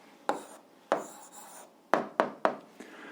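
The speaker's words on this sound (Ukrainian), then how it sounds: "Ну, а зараз записуємо відповідь, пишемо відповідь" Pen writing on paper during an algebra lesson: several short, quiet scratching strokes in an irregular rhythm, close and otherwise alone.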